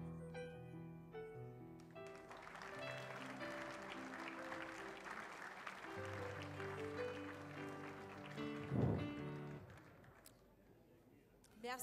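An audience at an awards ceremony applauds steadily for several seconds, the sustained clapping sitting under background music, with a brief louder burst near the end.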